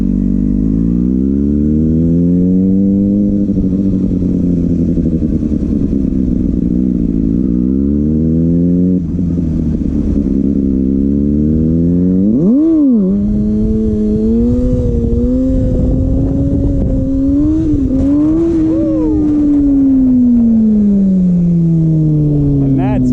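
A Kawasaki Ninja ZX6R motorcycle engine revs repeatedly, its pitch rising and falling in long sweeps, then snaps into a sharp, loud throttle blip before settling into a sustained high rev with smaller wavering surges.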